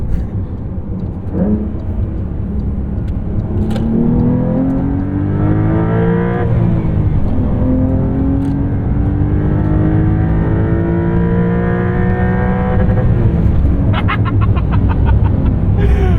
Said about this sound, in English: That's some great rev limiter sound there.